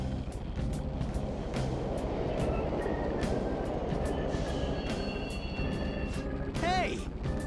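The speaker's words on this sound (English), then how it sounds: "The trains are totally running." A subway train rumbles steadily in the Mementos underground of the video game Persona 5, a constant loud roar with a rising metallic screech of wheels near the end.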